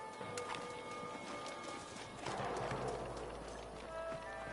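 Faint hoofbeats of horses in Red Dead Redemption clip-clop at a steady trot amid a busy, hissy outdoor ambience, with occasional creaks and a soft whinny-like sound.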